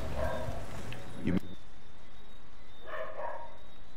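A dog barks in the Call of Duty Cold War video game, a few sharp barks near the start followed by quieter game ambience and a brief vocal-like burst later.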